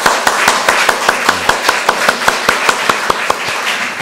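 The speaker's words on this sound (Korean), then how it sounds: "우리 격려 박수하도록 하겠습니다." Congregation clapping during a Sunday church service, a steady, evenly spaced run of sharp claps, close and clear, with no talk over them.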